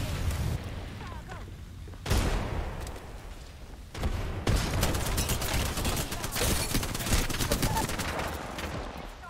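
Rapid gunfire from an Apex Legends match, dense bursts of automatic shots crackling close and loud, with sharp onsets near two and four seconds and sustained fire through the rest.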